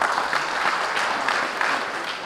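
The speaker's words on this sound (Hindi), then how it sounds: "कृपया ताली बजा के हम सब स्वागत कर दें" A crowd at a Tarai-Madhesh Loktantrik Party gathering in Janakpurdham claps steadily, welcoming a central working committee nomination. The broad, even applause fills the whole stretch at moderate volume, with no speech over it.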